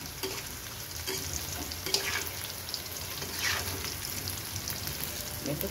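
Onion fries in oil with cardamom and cinnamon, a steady sizzle broken by a few scraping stirs of a spatula in the pan, close and moderately loud with no talk.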